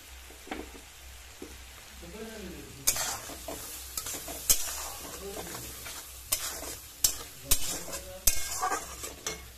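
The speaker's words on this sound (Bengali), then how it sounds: "দিচ্ছি আমি টমেটোর কুচি," Chopped tomato sizzles and fries in hot oil for a prawn malai curry, with a spoon stirring and scraping the pan in repeated sharp clinks over a steady close crackle.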